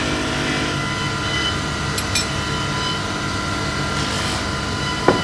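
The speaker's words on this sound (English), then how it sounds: "So now he is using the wax because we need to wax the wheels and then polish it." A fabric polishing wheel loaded with wax buffs titanium parts in a factory, giving a steady, loud whirring machine drone with a constant hum throughout and a brief scrape near the end.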